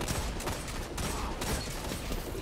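Rapid gunfire from a Destiny 2 video game session crackles in dense, continuous bursts, fairly quiet and with no talking over it.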